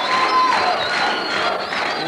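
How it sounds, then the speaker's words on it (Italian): Crowd applause and cheering at an Italian televised event, a dense, steady roar of clapping and voices held for a couple of seconds. "C'è l'applauso di congedo"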